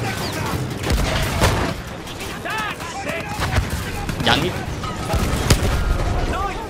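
A grenade blast in the World War I shooter Battlefield 1, buried in a dense, continuous din of battlefield booms and gunfire, with a voice talking briefly over the noise.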